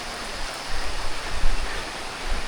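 Rain falling outdoors on an overgrown forest trail, a steady broadband hiss with soft rumbling gusts, close and fairly loud with no talking.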